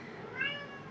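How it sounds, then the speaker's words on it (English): A house cat gives a single short meow, faint and indoors, rising and falling in pitch within about a second. "My cat's meowing."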